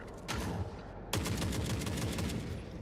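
Gunfire in the video game Forever Winter comes as a sustained rapid volley of shots, faint and somewhat distant, with a short break partway before the firing resumes and continues.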